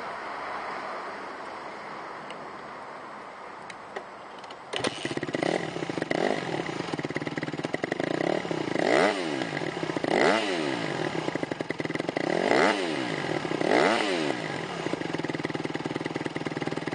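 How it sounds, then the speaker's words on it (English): A 2008 Honda CRF150RB four-stroke competition dirt bike starts after a few quiet seconds, then idles loudly up close with several sharp throttle blips rising and falling. "I'll fire it up so you can see how easy it starts and how potent the engine sounds."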